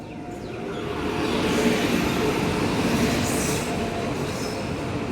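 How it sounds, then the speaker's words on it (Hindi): An Indian Railways train pulls into a station with a steady, loud rumble of wagons and wheels, faint squeal of metal on rail rising over the continuous roar, no voices. "ट्रेन आ चुकी है"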